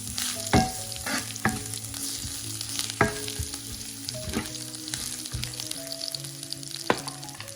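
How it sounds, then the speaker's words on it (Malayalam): Shallots, ginger and green chili frying in a pan for tomato stew, a steady close sizzle with scattered spatula scrapes and clicks as the mix is stirred. "ചെറിയുള്ളിയും ഇഞ്ചിയും പച്ചമുളകും ഒക്കെ ഒന്ന് ചെറുതായിട്ട് മൂത്ത് വരണം."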